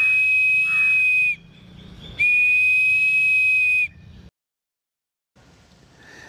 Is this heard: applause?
no